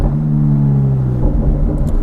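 A 600-horsepower aftermarket Ferrari F430 engine pulls hard under acceleration, a loud, steady droning rumble from inside the car that shifts tone partway through, with no voices.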